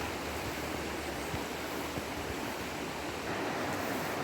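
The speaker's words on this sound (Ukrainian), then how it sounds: "швидкий такий струмок." A fast mountain stream in the Carpathian hills of Zakarpattia rushes steadily with a dense, even hiss of flowing water, close and constant throughout with no voices.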